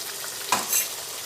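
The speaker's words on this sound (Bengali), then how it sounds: "এবার আমি মশলার ডিব্বাটা ধুয়ে একটু জল দিয়ে দিচ্ছি" Water splashed into spice paste frying in oil for a Bengali shukto, a brief hiss rising over a steady background sizzle, close, no talk.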